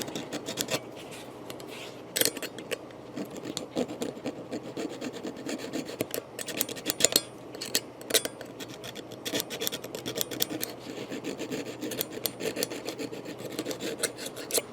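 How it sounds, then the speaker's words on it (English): Steady, gritty rasping and scraping of rusty guitar hardware being scrubbed, continuous with irregular bursts of harder strokes, close up and without voices. "Just trying to get all the rust off of it."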